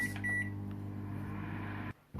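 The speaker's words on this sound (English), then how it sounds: "So I will put it in a microwave for just 1 minute" Microwave oven heating fresh milk for breakfast, a steady loud electrical hum running throughout before cutting off abruptly near the end, no talking.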